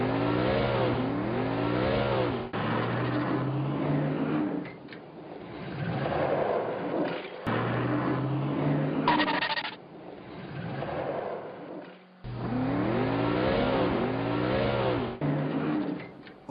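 A car engine revs and accelerates in repeated rising bursts, with quieter gaps between runs, moderately loud and near.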